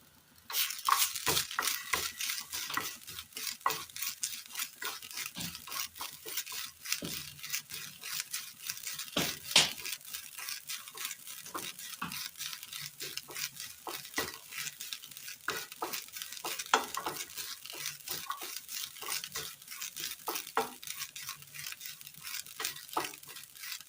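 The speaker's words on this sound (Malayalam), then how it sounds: "പാൻ അടുപ്പത്ത് വെച്ച് കൊടുത്ത് അതിലേക്ക് തേങ്ങ ഇട്ട് കൊടുക്കാം." Grated coconut roasts in a pan for a Kerala curry, a soft continuous dry sizzle broken by frequent scraping strokes of a spoon stirring it, close and steady with no talk.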